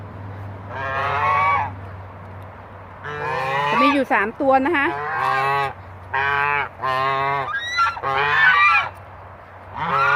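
Three domestic geese honk loudly in repeated bursts near the listener, reacting at the sight of their owner, while someone talks between and over the calls.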